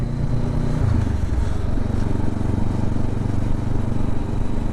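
Honda CB500F motorcycle engine under way on the road, a loud, steady drone with a low rumble and wind noise, running continuously with a slight shift in pitch early on.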